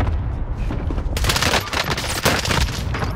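Rapid bursts of automatic gunfire crackle loud and close in a Call of Duty: Modern Warfare firefight, a quieter opening second giving way to dense, overlapping shots with no talk.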